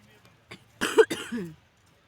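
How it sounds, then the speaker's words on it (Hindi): A single close, raspy cough sounds after a faint breath, set against a quiet background. "मेरी खांसी बिल्कुल रुक नहीं रही है"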